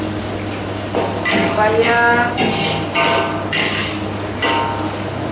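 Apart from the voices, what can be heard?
stir-frying long beans with pumpkin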